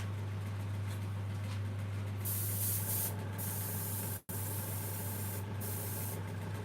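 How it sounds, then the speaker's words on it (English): An airbrush sprays paint in a continuous, steady hiss with a low hum underneath, briefly cutting out for a moment before resuming, close and fairly loud with no talking. "I'm using my airbrush, but I'm just going to use it to move the paint about."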